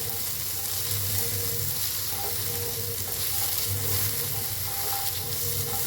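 Ginger, green chillies and garlic fry in hot oil, a steady, dense sizzle that holds loud and close throughout, with faint stirring movements underneath.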